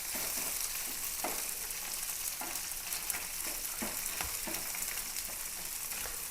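Small poolan fish frying in oil on a dosa pan give off a dense, continuous close-up sizzle with crackling pops scattered throughout and no voices.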